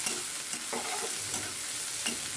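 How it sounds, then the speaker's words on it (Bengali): Hilsa fish is stir-fried in a pan as a bhuna, giving a continuous close sizzle broken by scraping spatula strokes against the pan, with no voices. "আমি ইলিশ মাছটা ভুনা করব।"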